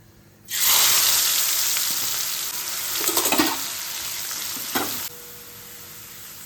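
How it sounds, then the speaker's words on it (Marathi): Sliced onion dropped into hot oil for poha chivda, a loud sizzling hiss bursting in suddenly, holding steady for several seconds with a few stirring clatters, then cutting off abruptly into quiet. "आता आपल्याला कांदा तळून घ्यायचा आहे"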